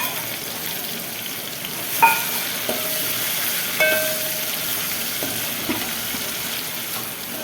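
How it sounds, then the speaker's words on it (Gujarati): Garlic, green chillies and tomatoes fry in hot oil in a pan, sizzling steadily throughout, with a few clinks and scrapes of a spoon stirring against the metal. "લસણ ને લીલા મરચા હવે નાખી દઈશું ટમેટા"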